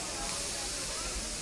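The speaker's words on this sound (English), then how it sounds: "I hear the steam moving, so I think we're getting ready to start." Steam hisses from a steam train at Magic Kingdom as a steady, soft, broadband rush, faint and constant with a low rumble underneath.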